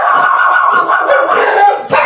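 Dogs barking and yowling loudly and close, a continuous overlapping cluster of barks and howl-like cries with a sharp new bark at the very end.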